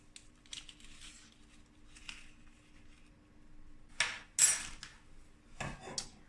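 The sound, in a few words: stirring agar-agar into water in a saucepan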